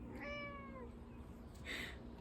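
An indoor house cat gives one clear, drawn-out meow, followed by a fainter, shorter chirp-like sound over a low, steady room hum.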